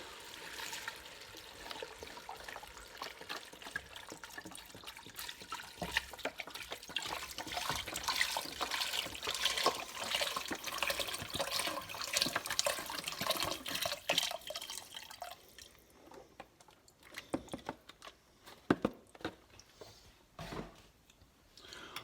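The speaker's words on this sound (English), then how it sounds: "Some salt, some pepper, and my stock." Stock poured into a pot of garlic soup makes a steady, close liquid stream for about fifteen seconds, then thins to scattered splashes and drips.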